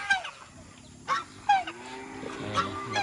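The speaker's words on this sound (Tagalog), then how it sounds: "May gansa din." Several loud geese honk in short bursts, spaced irregularly, close by on a farm in the Philippines, with a low farmyard rumble underneath.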